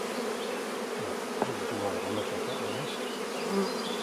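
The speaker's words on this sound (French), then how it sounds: "J'ai plein d'abeilles dans le cou." Honey bees buzz steadily around an open hive with a super during an inspection, a soft continuous drone heard alone at moderate distance.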